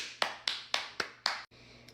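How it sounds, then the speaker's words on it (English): Five sharp hand claps in a quick, even rhythm, close and fairly loud, with a short pause before a faint sixth, heard during a snack of sourdough appetizers. "If you don't clap when you're eating this."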